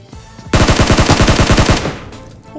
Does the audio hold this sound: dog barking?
no